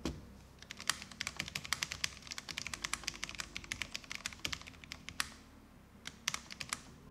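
Typing on a CHERRY MX 10.0 keyboard with Cherry MX low profile red switches, a quiet, steady run of soft clicking keystrokes with a few sharper taps.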